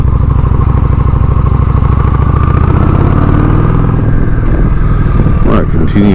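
A Honda Shadow 750 motorcycle roars steadily on a Sunday morning ride, its loud, close engine drone mixed with heavy wind rush, easing slightly near the end.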